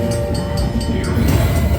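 Rumbling, rattling train effect from a gold train feature in a slot game, loud and continuous with faint rhythmic clicks on top.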